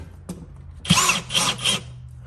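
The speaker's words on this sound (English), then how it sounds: "let me make it quicker with the drill" A power drill drives screws during a water softener installation: a brief tap, then three close, loud bursts of whirring motor separated by short pauses.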